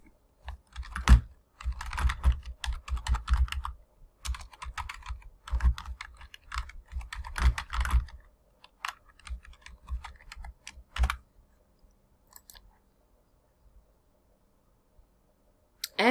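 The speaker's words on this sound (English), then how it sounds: "Let's type that question in the search box." Someone types a question into an academic database search box on a computer keyboard, with quick bursts of close key clicks, a few pauses and single taps, then near silence at the end.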